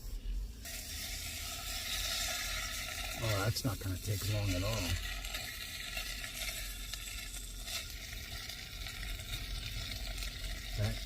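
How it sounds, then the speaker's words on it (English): Meatballs sizzle steadily in a hot pan, a constant crackling hiss throughout, with someone speaking briefly over it and a few scraping stirs. "Ooh, you can hear it sizzling already."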